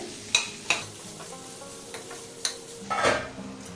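Two large onions fry in a pan for a mutton salan, a moderate sizzle broken by sharp spatula scrapes and clinks against the pan, with a louder stirring burst near the end.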